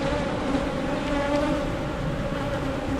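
Dense, steady buzzing of many honeybees at an open hive, a continuous loud drone that fills the whole moment, close by and without pause.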